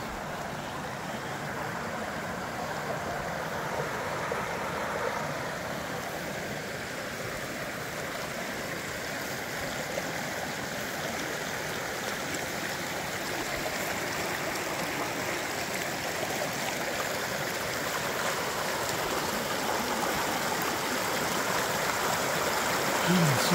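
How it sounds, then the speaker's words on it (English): A stream flows at Maple Grove Campground in Utah, giving a steady, broad rushing and babbling of water that stays constant and fairly close throughout, with no pauses. "here is the stream that we've got here."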